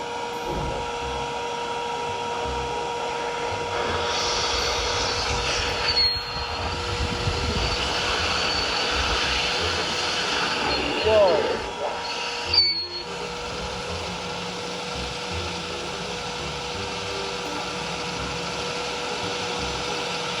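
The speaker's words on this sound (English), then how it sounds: "Here is the improved version of my one-cylinder vacuum engine with throttle." A one-cylinder Lego vacuum engine with a throttle runs continuously with a steady whirring hum and a constant tone, broken by a couple of brief clicks and shifts near the middle.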